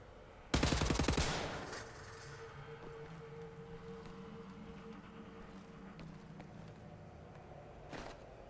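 A short burst of rapid automatic gunfire from the video game Wolfenstein: The New Order, loud and close, stops after about a second and leaves a steady mechanical drone underneath.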